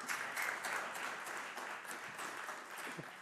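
An audience at a technology conference applauds to welcome a speaker on stage, giving dense, sustained clapping that fills the room for a few seconds and fades slightly toward the end.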